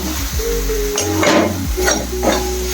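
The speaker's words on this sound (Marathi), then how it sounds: "छान असं तेल सुटेपर्यंत आपण हा मसाला भाजून घ्यायचा आहे" Masala roasting in oil for a wet-cashew vegetable dish gives a steady close sizzle, with a few louder stirring swells through the middle and end.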